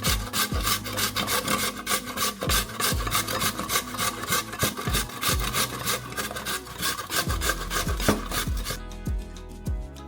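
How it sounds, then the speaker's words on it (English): Medium potato rasped against a hand grater in quick, steady back-and-forth strokes, loud and close with a scratchy texture and no voices. "Grate the potato."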